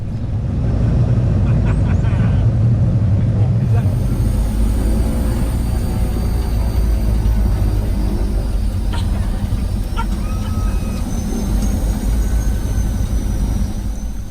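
A small aircraft taxis on the beach runway at Barra Airport, a loud, steady engine drone with a low rumble that keeps up without a break for the whole stretch, with a few faint knocks above it.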